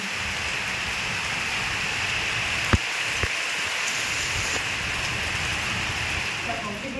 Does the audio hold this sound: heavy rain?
yes